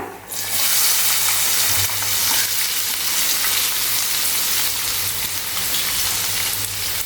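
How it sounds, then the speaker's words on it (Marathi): Finely chopped onion drops into hot oil already holding cumin and asafoetida, bursting into a loud, bright sizzle that settles into a continuous close-up frying hiss, with no talking. "आता आपण आपला बारीक चिरलेला कांदा घालूया"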